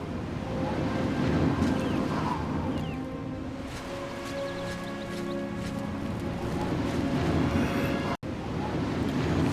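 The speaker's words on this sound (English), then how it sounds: "Bit windy today." Wind blows through an outdoor scene in a video game, a steady, full rush with rising and falling gusts and a brief dropout near the end.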